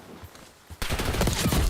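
A sudden burst of rapid gunfire in a competitive shooter match, loud and continuous after a quiet lead-in, with overlapping shots forming a dense volley.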